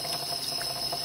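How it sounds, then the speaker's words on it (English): Water running steadily over and through a glass hummingbird feeder as it is rinsed, a continuous close splashing hiss with no pauses. "Just rinsing with water is not enough."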